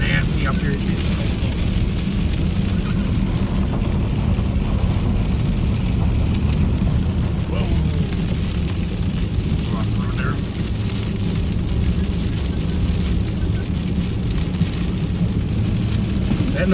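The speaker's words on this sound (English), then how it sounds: "That noise you hear again, that's freezing rain." Freezing rain and sleet hitting a snowplow during a New York State blizzard: a dense, continuous hiss and patter over a loud, steady engine rumble, with someone talking over it.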